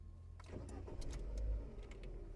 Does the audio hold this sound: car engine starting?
yes